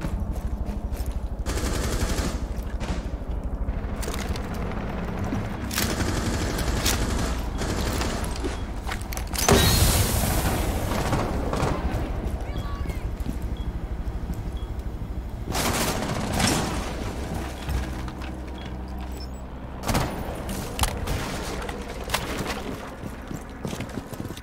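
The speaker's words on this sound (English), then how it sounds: "Twitch getting in a gunfight with Skies already, getting the final kill" Gunfire in a video game esports tournament match: sporadic bursts and exchanges of shots over a continuous game soundscape, with one louder, denser burst partway through.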